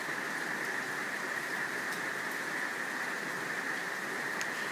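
Steady broadband rain hiss, fairly quiet and unbroken, with a faint band of higher hiss, no voices.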